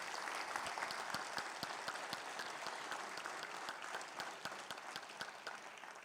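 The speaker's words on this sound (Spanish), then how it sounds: "Denle un fuerte aplauso." A church congregation at a Sunday service claps, a faint but continuous patter of many hands with distinct sharp individual claps throughout, and no talking over it.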